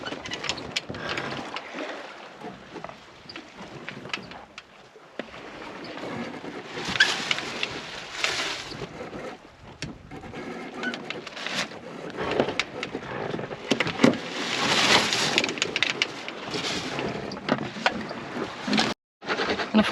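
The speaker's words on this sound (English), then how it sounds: "I'm going more beam reach now to get more wind in the sail" A sailboat moves in very light wind on a solo ocean passage toward Mindelo, Cape Verde, with a steady wash of water and wind rushing past the hull, swelling and easing in slow surges, with no talk.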